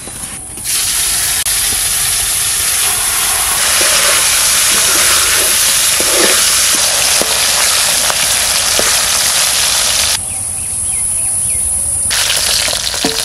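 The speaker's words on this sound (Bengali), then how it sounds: "সব মাছ ভাজা হয়ে গেছে" Snakehead (shol) fish pieces fry and sizzle in hot oil, a loud, steady hiss that swells and dips slightly, with occasional crackles and spits throughout.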